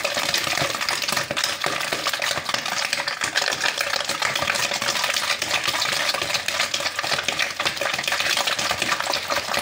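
Crepe batter ingredients, yeast included, whisked together in a bowl, giving a steady, dense scraping and clinking that runs loud and continuous with no pauses.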